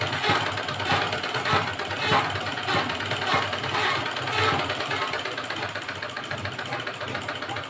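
A sewing machine stitches a doubled strip of blouse fabric, giving a steady, close mechanical whir with faint rhythmic pulses and no talking.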